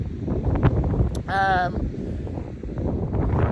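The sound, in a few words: strong wind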